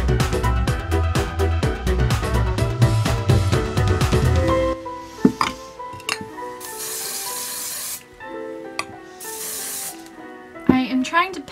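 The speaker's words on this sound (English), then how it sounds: "so everything has been very copiously hairsprayed." Hairspray sprayed onto hair during a 1920s flapper styling session, two long steady hissing bursts following a stretch of background music, with a few clicks and handling noises between.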